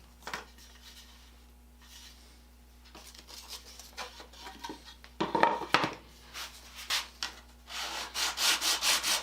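Wood is being sawn or sanded in a home workshop while building a shelf for power tool chargers, giving repeated rhythmic rasping strokes that grow louder and faster toward the end, with no talking.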